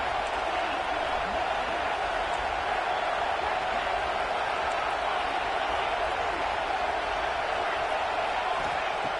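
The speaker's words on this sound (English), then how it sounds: "Listen to the crowd energy here in the early going." Steady, dense roar of a football stadium crowd early in a college football game, a continuous broadband wash with no breaks, constant loudness throughout and faint commentary-like speech layered in.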